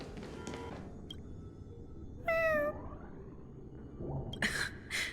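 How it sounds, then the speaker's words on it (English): A cat meows in Honkai: Star Rail, one clear rising-and-falling call in the middle over a steady game ambience, followed by fainter shorter cries near the end. "What's that sound out there? Ah, it's a cat."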